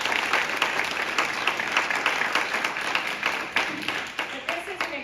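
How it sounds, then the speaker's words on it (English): A room full of people at a City of Aurora gathering breaks into sustained applause, dense steady clapping that holds for several seconds with a few louder individual claps standing out near the end. "I wanted to just give you a big round of applause"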